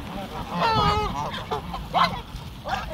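Several ducks or geese honk and quack close by in a rainy outdoor spot, harsh calls overlapping in a cluster early on, then a few separate squawks, with a person's voice faintly mixed in.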